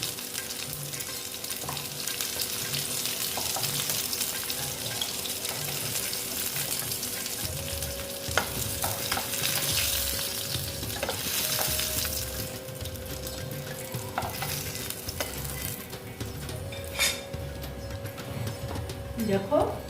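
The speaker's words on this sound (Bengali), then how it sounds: "মাছটা প্রায় ভাজা হয়ে গেছে দেখো আমি না কড়া করে ভেজেছি" Koi fish fry in hot oil with a steady, crackling sizzle that runs throughout, along with occasional utensil clinks and a voice talking over it.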